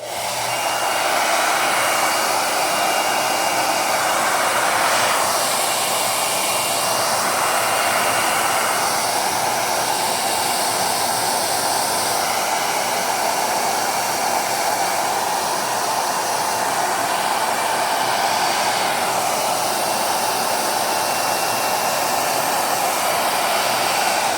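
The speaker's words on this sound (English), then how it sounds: "we could speed up the process with a hairdryer, which is what I prefer to use" A hair dryer blows loudly and steadily for the whole stretch, a constant airy whoosh with slight shifts in pitch, no voices.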